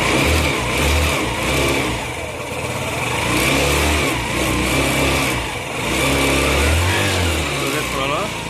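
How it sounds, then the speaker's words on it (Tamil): A bike or scooter engine, being tested during a drive-belt replacement, revs up and down in steady swells with a low rumbling drone, loud and close, while a voice speaks over it. "வண்டி ரேஸ் பண்ணுறேன்."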